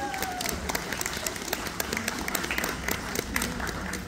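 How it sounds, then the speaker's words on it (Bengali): Audience at a talk show applauding as guests are called onto the stage, a steady stream of crisp hand claps over a crowd murmur, lasting throughout. "আরো একবার জোরে হাততালি প্লিজ"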